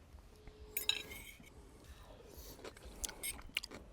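Someone tasting a summer cherry salad with cherry plum sauce, tomato and olive oil: quiet clinks of a fork against a dish, then soft close chewing and bites, faint and intimate, with no talk.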